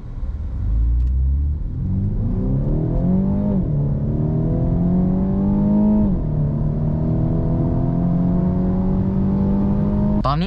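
A Mini John Cooper Works Countryman in mid mode launches hard from a standstill to 100, its loud engine note rising steadily, dipping briefly at each gear change, then climbing again, with no talking.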